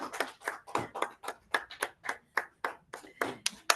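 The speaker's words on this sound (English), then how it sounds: "Let's clap for Tabitha." A small club meeting audience clapping in a steady rhythmic beat, roughly two claps per second, fairly close and moderately loud, with no talk over it.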